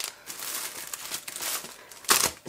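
Plastic packaging around two strips of stationery stickers crinkles and rustles close by in a steady run of soft crackles, with one brief louder crunch near the end.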